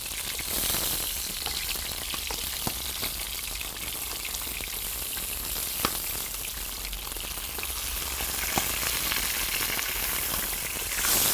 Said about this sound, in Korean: 지글지글 소리 장난 아니죠?